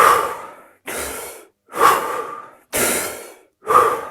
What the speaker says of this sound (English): One, the breathing.